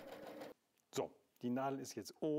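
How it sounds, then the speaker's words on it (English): A W6 N 5000 Exklusive sewing machine runs briefly, stitching a woven pattern of three small stitches right and three left, a short mechanical whir at the start before a person talks over the rest. "The machine sews 3 little stitches to the right and 3 stitches to the left, which forms a kind of woven stitch"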